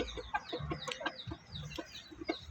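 Several chickens cluck softly nearby, a scattered run of short clucks and low murmuring calls with no talking.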